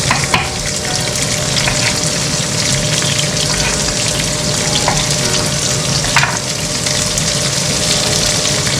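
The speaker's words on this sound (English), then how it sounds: "Onion, tomato, coconut, chutney. You just fry all these" Onion, tomato and coconut frying together in a pan for dosa chutney, a loud, steady, close sizzle with occasional stirring clinks throughout.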